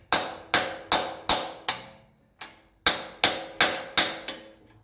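A hammer taps repeatedly on a part of a 1954 Ferguson TEF 20 diesel tractor: about ten sharp, ringing metallic blows in two quick runs, with a short gap between them. The blows are close and loud, with no talk.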